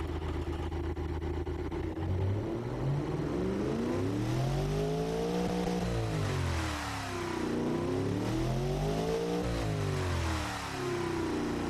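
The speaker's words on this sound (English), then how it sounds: "it's a pretty mean-sounding engine, this one" A race car engine in the video game Automation revs up and down repeatedly, its pitch sweeping high and low in long surges, loud and continuous with no talking.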